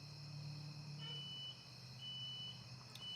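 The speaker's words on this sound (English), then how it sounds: "Smoke alarm's going off." A household smoke alarm sounds high, thin repeated beeps, steady and fairly quiet against a low hum in a room, with no one speaking.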